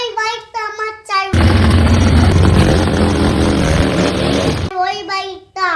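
A motorbike engine roars loud and steady for about three seconds, with someone talking just before and after it.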